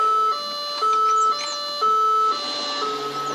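An electronic vehicle siren in the video game BeamNG.drive alternates between two pitched tones in a steady hi-lo pattern, close and clear, with a faint warbling sweep in the background.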